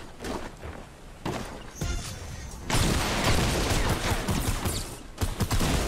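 Gunfire in Fortnite, a series of loud close shotgun blasts and impacts, some spaced apart and then a denser stretch of chaotic firing and crashing.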